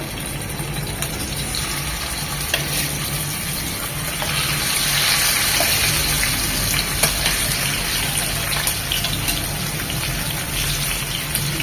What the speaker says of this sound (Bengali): যে কোনো মাছ রান্নার ক্ষেত্রে হালকা করে ভেজে নেব কড়া করে ভাজবো না